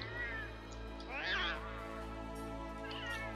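Palico voice type 3 from Monster Hunter World, a few short cat meows, the clearest one in the middle and a fainter one near the end, heard over a steady low game hum.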